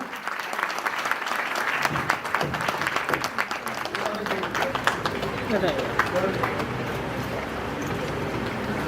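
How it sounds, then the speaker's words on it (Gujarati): An audience at an award ceremony claps hard and steadily, a thick, continuous round of applause with a crowd murmur and voices mixed in underneath. "જોરદાર તાળીઓથી વધાવીશું."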